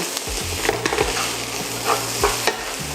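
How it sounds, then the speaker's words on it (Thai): Beef and holy basil leaves stir-fried together in a pan for fried rice, a loud close sizzle with repeated rhythmic scrapes and clatters of the spatula against the pan, without speech. "ตามด้วยเนื้อที่เรารวนไว้ลงไปเลย แล้วก็ผัดให้เข้ากัน"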